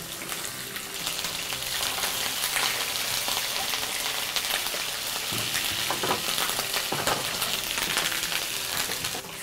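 Garlic paste and ginger paste frying in a pan, a steady close sizzle with light stirring scrapes running throughout, no talk.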